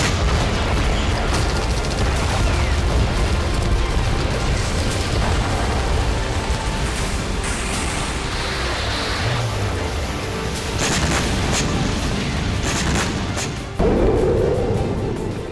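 Bombing explosions in the Ukraine war around Bakhmut: a dense, continuous roar of deep booms and rumbling blasts, loud and sustained throughout, with a few sharper bursts and a heavy thud near the end.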